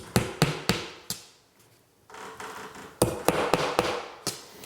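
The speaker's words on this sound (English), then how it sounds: "Now I'm going to take this nail and drive it through the cardboard into the wall to mark my holes." A hammer drives a nail through cardboard into a wall stud: a burst of sharp, close knocks, a brief pause, then another run of blows.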